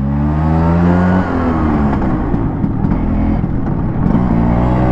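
A moped engine, ridden downhill with a heavy rider, revs loud and close, its pitch climbing in first gear, dipping briefly as it shifts into second, then rising again.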